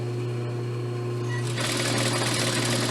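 A sewing machine stitching a pillowcase hums steadily up close, then speeds into a louder, continuous rattling whir partway through, with no talk.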